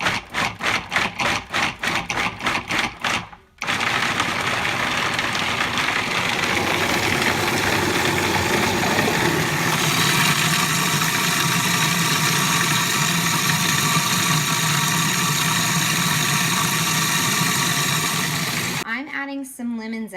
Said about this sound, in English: We're gonna get the pine nuts and the garlic and the Parmesan a whirl in here.